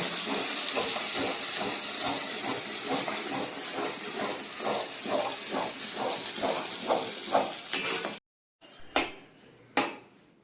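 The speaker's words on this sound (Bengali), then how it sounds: "এবার দিয়ে দেবো মটরশুঁটির পেস্ট, একটু নাড়াচাড়া করে নেবো ভালো করে।" Green pea paste fries with a soft hiss in a pan as a spoon stirs it in quick, even scraping strokes. After the stirring stops, a few isolated knocks follow.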